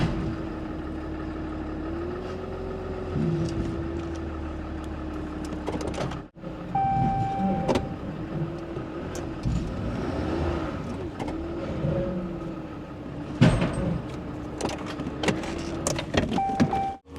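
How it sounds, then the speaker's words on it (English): A truck engine holds a steady, fairly loud drone while easing a load out from under something, with slight pitch wavers as it pulls, a brief dropout near the middle and a few clunks and creaks. "easing out from under it with the truck is gonna be a smoother pull than pulling it with a skid steer"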